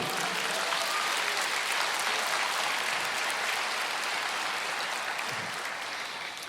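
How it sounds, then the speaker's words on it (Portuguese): A church congregation applauds steadily in a broad, sustained wash of clapping that fades slightly toward the end, with no voices rising above it. "Então aplauda ao Senhor."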